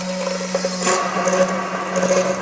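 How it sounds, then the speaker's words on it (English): An immersion hand blender runs at high speed in canola oil to make aioli, producing a steady whirring hum with faint shifts as it works, close and moderately quiet. "Take your Immersion hand blender, put it in there, high speed"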